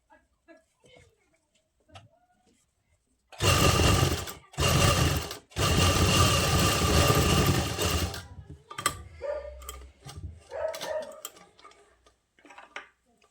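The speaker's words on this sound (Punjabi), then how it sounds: "ਇਦਾਂ ਆਪਾਂ ਸਾਰੇ ਨੂੰ ਫੋਲਡ ਕਰਕੇ ਸੀਨ ਕਰਾਂਗੇ" A sewing machine stitches folded fabric in loud, close bursts of rapid mechanical whirring, three runs with short pauses between, followed by quieter handling clicks and rustles.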